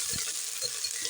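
Garlic dropped into hot oil already holding browning fenugreek seeds sizzles with a steady, close crackling hiss, broken by a few faint clinks of a stirring spoon.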